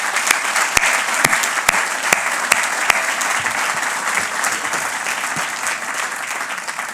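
Steady applause from an audience at a Department of Corrections fiftieth anniversary event, dense and continuous for several seconds with a few sharper claps standing out, no talking over it.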